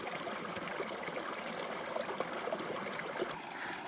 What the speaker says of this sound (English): This is a neat water source where the water is coming right out of this lava field.